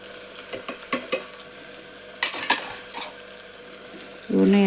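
Garam masala and coriander powder frying in oil, a soft sizzle under scattered clinks and scrapes of a metal spoon stirring in the pan, with a brief murmur of voice and a louder burst near the end.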